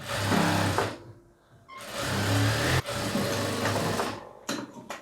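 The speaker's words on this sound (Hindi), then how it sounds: "तो यहाँ पे हमने दोनों साइड पे सिलाई लगा लिया है" Sewing machine running in bursts while stitching the side seams of an off-shoulder blouse, loud and close, with short pauses between runs and no talking.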